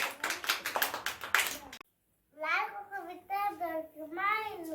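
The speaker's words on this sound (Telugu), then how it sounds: "క్లాప్స్ కొట్టండి అందరు." Children in a classroom clap their hands together in a burst of rapid, loud clapping lasting under two seconds, followed by a brief silence and then an adult voice speaking.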